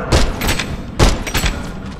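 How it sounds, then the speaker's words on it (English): Gunfire in the Black Ops 6 campaign video game: two heavy bursts of shots about a second apart, each a loud booming thump followed by a rattling tail, with no talk. "I'm literally getting shot at right now."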